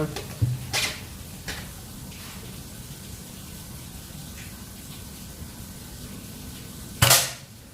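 A sharp snap of a Mouser BigGame air rifle shot rings out early, then steady background noise, and a second loud crack near the end.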